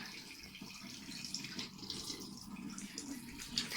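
Water running from a household tap into a sink, a soft steady splashing stream at low level, heard alone and fairly close.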